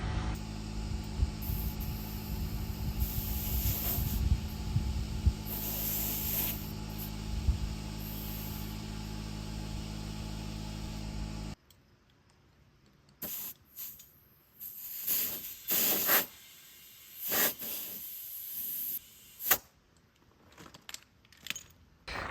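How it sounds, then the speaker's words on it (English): Compressed air hisses in short bursts into truck tires being inflated from about 25 to 44 psi; a steady loud hiss fills the first half, then several shorter blasts follow amid quieter handling noise. "We need to put some air in these tires."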